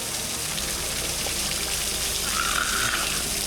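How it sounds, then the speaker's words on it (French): A waterfall on a Blue Mountains hiking trail in Australia, where the path passes right under the cascade, gives a steady, close, broadband rushing roar of falling water for the whole stretch, with no voices. "y a pas le choix, faut passer sous la cascade."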